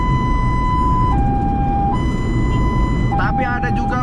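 Ambulance siren wailing loud and close, a sustained tone stepping between two pitches and then shifting into a rapid warble near the end, over rumbling road noise.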